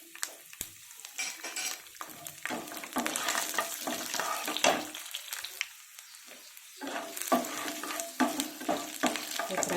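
Bitter gourd pieces and garlic frying in a pan give a steady sizzle with frequent stirring scrapes and clinks of a utensil against the pan, close and fairly loud, without talk.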